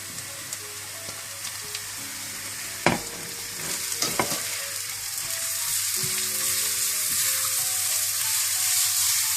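Capsicum for vegetable Hakka noodles sizzles and fries steadily in a hot pan, a constant hiss broken by a few scrapes and clanks as it is stirred.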